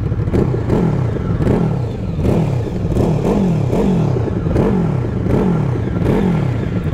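A QJMotor SRV 600 V4 motorcycle engine is blipped over and over in a steady rhythm, each short rev rising and falling back, heard close and loud with no talk.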